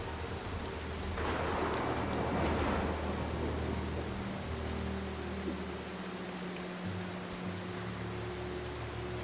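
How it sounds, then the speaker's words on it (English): Steady game rain from Mark of the Ninja, a continuous broadband hiss with a louder swell early on, layered over low sustained ambient tones and no voices. "I don't know what's up with this rain."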